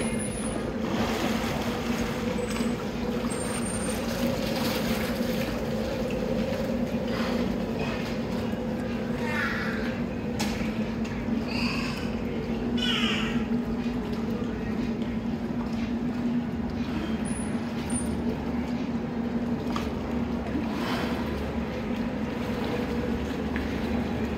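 Squeaky chirps and whistles from a beluga whale at SeaWorld San Diego, pushed out through its blowhole, come in scattered bursts over a constant low mechanical hum and rushing background noise.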